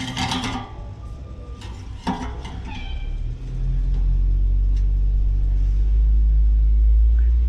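Low rumble of a garbage truck rising in the background and settling into a sustained heavy drone, preceded by a few brief clanks and metallic knocks nearby.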